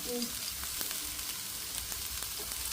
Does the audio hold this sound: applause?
no